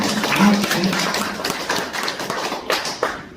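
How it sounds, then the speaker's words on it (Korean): A small audience claps a few scattered rounds of hand claps that fall into a loose, uneven rhythm, moderately loud in a room with some murmured background talk. "그럼 박수 한번 쳐줘야지 그 사람은."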